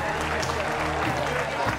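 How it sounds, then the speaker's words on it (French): An audience applauds a photo, giving dense, steady clapping with a low droning hum underneath and speech mixed in throughout. "On va applaudir déjà pour cette magnifique photo."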